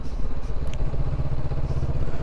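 A Honda A2 adventure motorcycle engine chugs steadily at just over 2,000 revs on country lanes, giving a continuous low, throbbing drone with a little wind and road noise and no talking.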